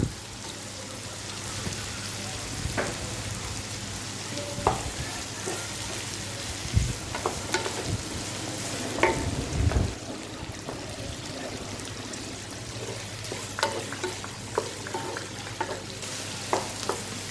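Onions and coconut sauté in a hot pan for a spicy chutney, a steady close sizzle running throughout with scattered scrapes and clacks of stirring, no voices.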